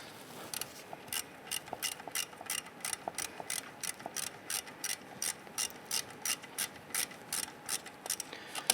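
A ratchet wrench snugs a bolt on the back side of a front CV axle assembly on a 1995-2001 Ford Explorer, giving a steady run of quick, evenly spaced metallic clicks, close and clear, with no talk.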